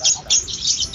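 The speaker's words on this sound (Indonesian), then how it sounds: "Dan yang pertama ini saya tertuju dengan burung lovebird ya teman-teman." Lovebirds chirping at a bird market in Bandung, bright high-pitched tweets in quick bursts, close and fairly loud, with no voices heard.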